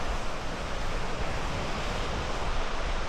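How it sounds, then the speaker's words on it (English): Surf washes steadily onto a beach on Cornwall's north coast near Bude, a continuous broadband roar of breaking waves mixed with wind buffeting the microphone, with no voices. "here's the beach again."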